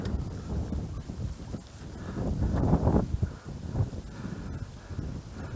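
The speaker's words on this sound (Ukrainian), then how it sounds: "Вітер хоч на водоймі і присутній" Gusty wind over a lake buffets the microphone in low, uneven rumbles, swelling and easing outdoors with no voices.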